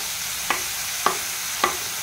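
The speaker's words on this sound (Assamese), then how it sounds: "এনেদৰে কলখিনি ঘিউতে ভাজি থাকিব" Banana pieces frying in ghee in a pan, a soft steady sizzle with three evenly spaced stirring taps or scrapes, close and clear with no talk.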